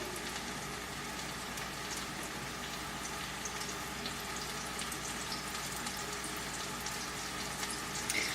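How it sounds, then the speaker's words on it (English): Steady, fairly quiet sizzling crackle of tilapia frying in a pan over medium heat, constant and even throughout with no voices. "See, it's picked up and now it's sizzling."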